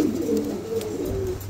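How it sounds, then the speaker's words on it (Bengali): Pigeons cooing close by, a soft, low rolling coo repeated in a smooth run over a faint hushed background. "আজকে প্রত্যেকটা কবুতরই মাশাআল্লাহ খুবই চমৎকার কিছু কবুতর আছে"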